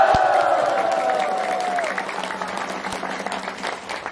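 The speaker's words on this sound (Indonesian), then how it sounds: "Tepuk tangan dulu." A crowd of visitors applauds at a regional parliament (DPRD) gathering in South Sumatra, a dense sustained clapping with a brief tonal tail near the start, fairly close and continuous throughout.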